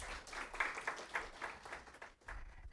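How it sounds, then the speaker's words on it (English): Participants at an academic writing workshop give a short, modest round of clapping, individual claps audible in an uneven rhythm with a brief dip near the end, fairly faint in the room. "Please round applause for everyone."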